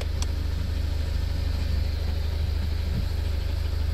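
A car engine idles steadily during an electric parking brake and brake disc job, a low continuous rumble with an even pulse throughout, fairly close and unbroken.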